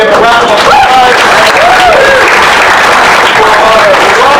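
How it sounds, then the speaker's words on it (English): A loud, dense burst of audience applause and cheering fills an improv comedy show, steady and continuous throughout with a crowd roar beneath the clapping. "Let's give a round of applause"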